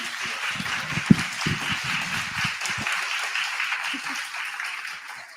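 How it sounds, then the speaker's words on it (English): Audience applause at a school board candidate forum, a sustained crowd of clapping hands with a sharp louder clap early on, continuing evenly and thinning slightly toward the end, with some voices mixed in. "Can we give a round of applause?"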